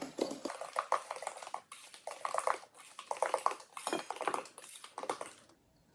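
Wet ingredients for zucchini bread, including grated zucchini, being stirred in a bowl, with repeated clinks and scrapes of a utensil against the bowl in uneven bursts, close and fairly quiet.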